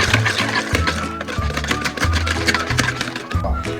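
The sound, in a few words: mixing oil and beaten eggs for cake batter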